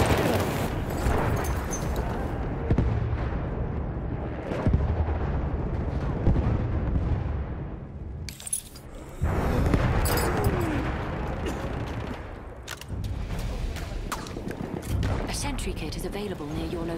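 Enemy artillery barrage in Battlefield 1: repeated heavy booms and blasts over a constant rumbling roar of battle, with a brief lull midway and voices speaking in places.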